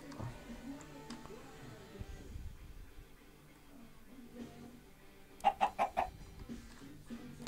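Chickens in the game Minecraft, Tekkit modpack, cluck in a quick burst of four sharp, fairly loud calls near the end, with quieter clucks and game ambience scattered before, and a voice speaking faintly underneath.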